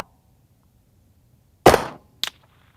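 Rifle shots fired at a SPARTAN Armaply Level III+ body armor plate on an outdoor range, two sharp distant cracks, the first louder with a short tail, the second briefer, in near silence.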